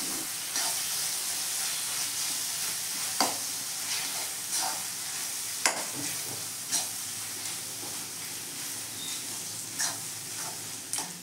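Garlic and ginger paste fries in a pan for mutton kosha, a steady soft sizzle broken by occasional scraping stirs and light clicks, close and without talk.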